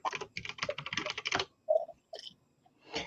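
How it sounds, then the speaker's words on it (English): Rapid typing on a computer keyboard, close and crisp, comes in dense bursts of keystrokes, then a pause and a few scattered taps. "You probably heard me typing for days there."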